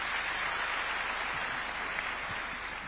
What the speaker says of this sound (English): Let's also give a clap to my Principal Secretary, Charles Hinga, as he sits down